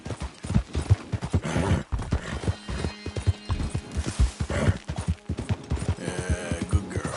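A horse gallops with steady, fast clip-clop hoofbeats and an occasional snort or whinny, loud and close, in the Western video game Red Dead Redemption 2.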